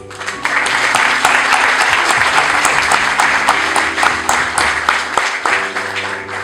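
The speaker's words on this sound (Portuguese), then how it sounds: "eu queria desde já pedir a todos uma salva de palmas por isso" A seminar audience claps loudly and steadily, a dense wash of many hands filling the room for several seconds before easing slightly near the end.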